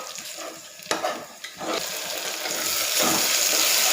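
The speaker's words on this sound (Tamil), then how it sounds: "தக்காளியை போட்டு நல்லா வதக்கி விட்டுருவோம்" Tomatoes and onions being sautéed in a pan, with a couple of sharp clatters as they go in, then a sizzle that swells into a steady, loud hiss.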